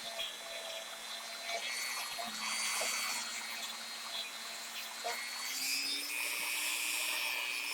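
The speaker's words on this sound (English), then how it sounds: "I'm going to say the polishing wheel is not the best way to do this, at least not with the compound I'm using." Polishing wheel loaded with a fine compound whirring steadily against a small metal guitar part, with a continuous high whine and shifting tone as the part is pressed and moved.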